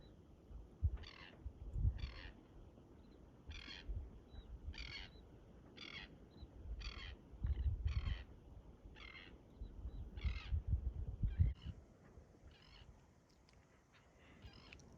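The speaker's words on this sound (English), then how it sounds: "Birds calling as they settle for the night." Birds on the remote Montebello Islands in Western Australia call at dusk as they settle for the night, a series of about a dozen harsh, crow-like caws spaced evenly, moderately distant over a low rumble of wind.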